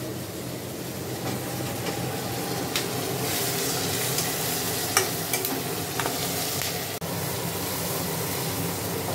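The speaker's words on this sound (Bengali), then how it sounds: "তো এটা কিন্তু অনেকক্ষণ ধরে সাঁতলাচ্ছি" Cashews and melon seeds sauté in a pan over a lowered flame for restaurant-style paneer butter masala, giving a steady close sizzle with occasional light spatula taps and scrapes, no voices.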